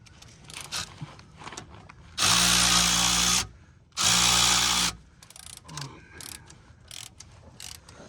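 A power drill whirs loudly in two sustained bursts, separated by a brief pause, amid scattered clanks and handling noises close by, while working on a Ford F-350 6.4 truck.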